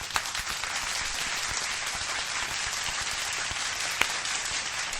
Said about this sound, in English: Round of applause to the chat.